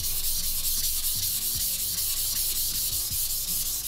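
A knife is rubbed back and forth on a green carborundum (GC) whetstone in steady, close, scraping strokes with no talking; the blade is a KISEKI cemented-carbide kitchen knife.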